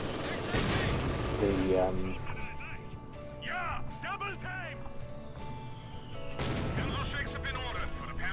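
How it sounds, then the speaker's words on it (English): Mortar shells and gunfire boom and crackle in a World War II strategy game, Company of Heroes 2, as several heavy blasts rumble under someone talking. "Those mortars they seem to have the ability to just shoot you."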